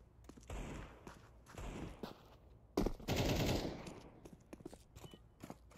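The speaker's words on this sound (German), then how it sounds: "Da nicht gerade noch eine M4 geschossen?" Bursts of M4 rifle fire ring out in Counter-Strike 2, several quick clusters of sharp shots, the loudest rapid volley near the middle, mixed with footsteps and no speech.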